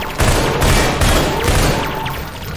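Heavy gunfire and booming blasts pound through a Half-Life 2: Entropy Zero 2 firefight, a loud rolling barrage of overlapping shots with no speech.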